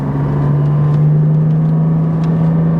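A mid-engine Porsche sports car engine hums loudly at a high, steady pitch from inside the car, rising slightly in a sustained rev with no voices.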